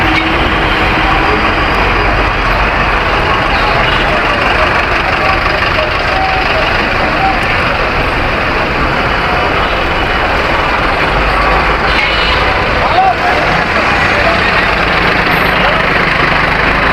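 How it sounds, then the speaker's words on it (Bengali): Buses and trucks sit in a traffic jam in Gulistan, Old Dhaka, their engines idling in a loud, dense, unbroken roar of street noise that continues at the same level throughout. "রাস্তাঘাটে সর্বত্র জ্যাম লেগে থাকে।"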